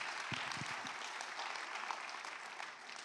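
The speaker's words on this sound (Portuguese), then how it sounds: "E estes três vão bater uma salva de palmas àqueles" Audience applause at a church gathering, dense steady clapping from a crowd that carries on without pause and tapers slightly toward the end.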